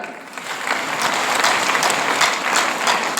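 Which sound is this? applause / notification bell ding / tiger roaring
applause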